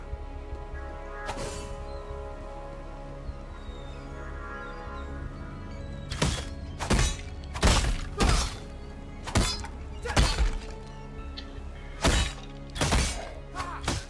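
Ice-shooting ranged weapon attacks in the action RPG Path of Exile, a string of sharp crackling, shattering bursts, one early and then a rapid cluster of about eight, over a steady low game background.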